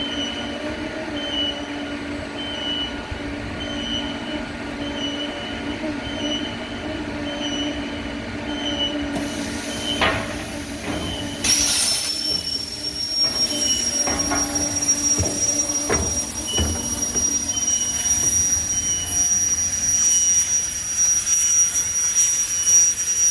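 A CNC plasma cutting machine with a 200 ampere nozzle: a steady mechanical hum runs for several seconds, then a loud, hissing roar with a thin high whine starts and continues, broken by a few sharp clicks.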